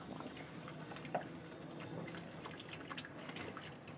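Liquid mixture trickling into chicken nihari in a pot while a spoon stirs, faint wet dripping and splashing with small clinks, quiet and steady throughout.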